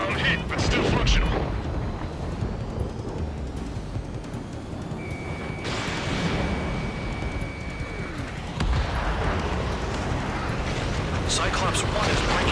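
Missile launches and explosions in Ace Combat 7 aerial combat, flying an F/A-18F: a steady roar of booms and rumbling blasts runs throughout, with a thin tonal lock-on beep in the middle, while voices talk over the radio.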